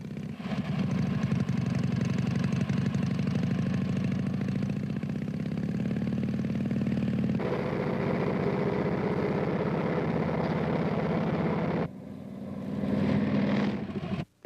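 A motorcycle engine runs steadily for a long stretch with a throbbing, rumbling drone, its pitch shifting slightly partway through, then briefly dips before picking back up near the end.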